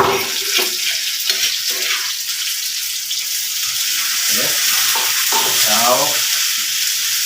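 Lemongrass and onion sizzle steadily in hot oil, a constant bright frying hiss with occasional stirring scrapes, while a voice speaks briefly over it.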